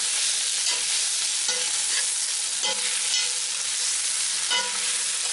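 Onions fry in a pan on their way to caramelizing, giving off a steady, fairly loud broadband sizzle with a few soft stirring knocks scattered through it and no voices.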